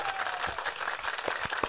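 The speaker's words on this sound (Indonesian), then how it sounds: "Tepuk tangan dong" A studio audience claps briefly as guests come onstage at an Indonesian talk show, a light, scattered patter of hands with a few sharper claps, fairly faint and short.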